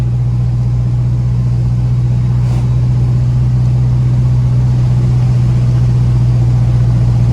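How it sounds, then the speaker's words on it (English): A big-block engine in a 1979 square-body truck idles with a steady, deep, loud rumble, close by and continuous, with no voices over it. "Just the way this big block sounded when it was idling and at idle when I goose it."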